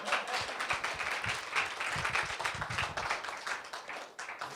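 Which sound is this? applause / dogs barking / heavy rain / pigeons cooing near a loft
applause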